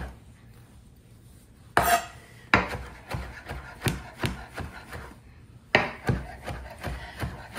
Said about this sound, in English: I'm just gonna give these a rough chop.